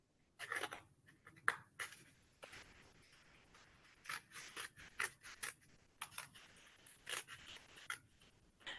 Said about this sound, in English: But we're just going to cut that circle out.